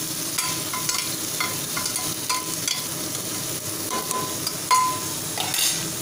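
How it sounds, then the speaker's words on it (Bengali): Chicken stew ingredients sautéing and being stirred in a pan over low heat, a steady close sizzle with repeated scraping strokes of a spoon throughout, no talking. "এগুলোকে মোটামুটি একটু সটে করে নেব।"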